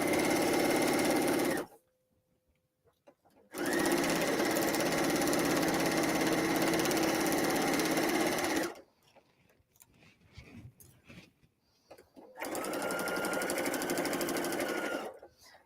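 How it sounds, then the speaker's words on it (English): A sewing machine stitches fabric for a paper-pieced kimono tea cozy in three loud, steady bursts, with quiet pauses between them filled by faint handling noises. "You don't necessarily have to do directional stitching like I'm doing"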